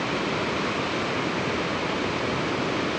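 Ocean surf washing in and splashing along the shore where white sea lions rest in Trinidad, California, a steady broadband roar of water filling the whole stretch with no break, close and fairly loud.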